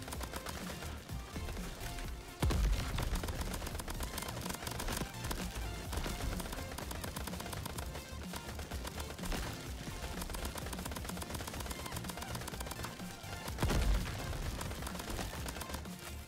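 Rapid, sustained gunfire from Crab Champions, a roguelike third-person shooter, rattles continuously in dense bursts with a couple of heavier booming hits, steady and fairly loud throughout.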